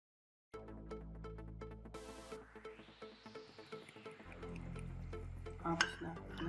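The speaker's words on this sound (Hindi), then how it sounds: "अब मैं इसमें इलायची कलर डालूंगी।" Cardamom food colouring poured into homemade elaichi sharbat gives a close sequence of soft drips and liquid splashes that grows into a fuller trickle toward the end, with no talking.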